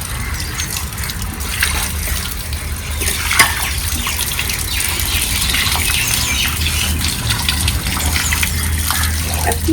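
Water gushes steadily into a fish tank during a monster-tank cleaning with alligator gar, a continuous close splashing pour that swells slightly midway, with no voices.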